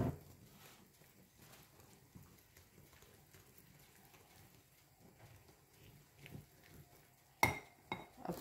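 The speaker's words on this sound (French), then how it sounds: "Hop, donc on commence à touiller" Faint, irregular scraping and soft clinks of a utensil stirring apple cake batter in a bowl, with louder knocks of the spoon against the rim near the end.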